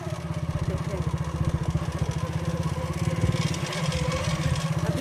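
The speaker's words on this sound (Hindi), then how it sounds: "अभी हम मोटरसाइकिल पे हैं" Motorcycle ridden along a dry riverbed near a village, its engine putting steadily and close for the whole stretch, with some rattle and wind on top.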